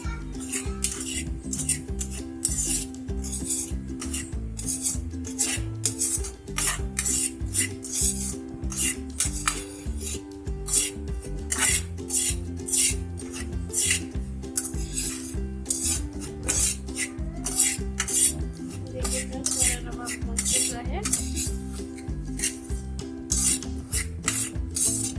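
Semolina being dry-roasted for suji halwa, stirred hard and fast in a metal pan: a loud, continuous rasping scrape with rapid rhythmic strokes, close up and with no voice.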